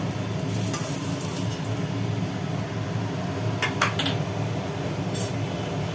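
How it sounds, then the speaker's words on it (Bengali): Eggs frying in hot oil in a pan on a home kitchen stove, a steady close sizzle running throughout with a few brief clinks of a utensil against the pan near the end. "ডিমগুলো মোটামুটি ভাজা হয়ে গেল ডিমগুলোকে একটা একটা করে তুলে নেওয়া হলো"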